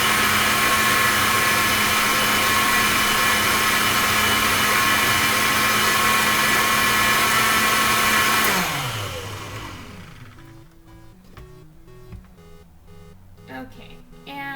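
A kitchen blender whirs loudly and steadily as it mixes a cantaloupe drink, then winds down with a falling pitch after about nine seconds, leaving quieter background sounds.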